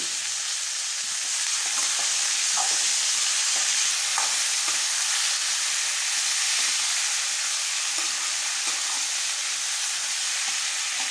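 Thinly sliced brinjal sautés over a high flame in a pan, giving a steady, even sizzling hiss that continues without a break, with a few faint stirring ticks.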